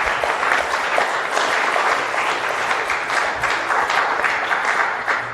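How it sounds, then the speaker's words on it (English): A room full of audience members applauds the panelists at the end of a panel discussion, steady dense clapping sustained at even loudness throughout, with little talk. "We can give everyone a round of applause."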